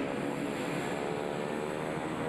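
Constant droning engine noise of an air ambulance plane in flight, loud and steady without any change in pitch.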